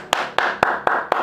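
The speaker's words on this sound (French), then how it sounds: "Applaudissons Mohamed." A class clapping for a student in a French lesson: five sharp, evenly spaced claps ringing out close and loud, like a brief rhythmic round of applause.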